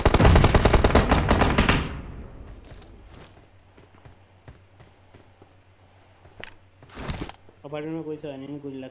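Rapid automatic gunfire in a shooting video game opens loud, followed by scattered single shots and mechanical clicks, with a voice briefly at the end.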